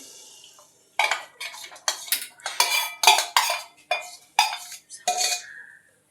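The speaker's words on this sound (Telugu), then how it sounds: "నెయ్యి వేడెక్కాక మనం కలుపుకున్న బ్యాటర్ని అందులో వేసేసుకోవాలి." A metal spoon scrapes and taps against a ghee-greased pan as cake batter is poured and spread in it, a close series of loud clinks and scraping strokes with short pauses.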